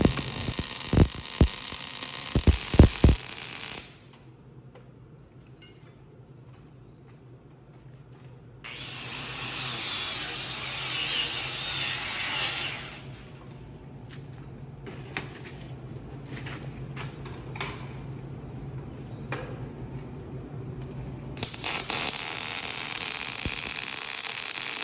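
MIG welding with .045 solid wire on a worn D6 bulldozer ripper bar, the metal already very hot; a steady hiss and buzz rises and drops in stretches over a low hum, with no talk.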